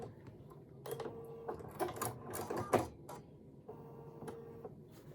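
Sewing machine stitching quilt fabric for a mini appliqué wall hanging, heard in short bursts of rapid mechanical whirring with pauses between, fairly quiet and close, with no talking.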